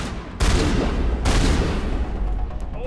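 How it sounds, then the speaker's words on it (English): A shotgun fired at point blank in a shooter video game: two loud, booming blasts close together, each with a heavy rumbling tail and no voices. "can I get like point blank with the shotgun here?"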